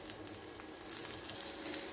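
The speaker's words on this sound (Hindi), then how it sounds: "इधर मेरी चाय भी जो है उबलनी शुरू हो गई है" Tea with jaggery comes to a boil in a pan, making a steady close-up hiss of bubbling and sizzling that carries on evenly without any talk.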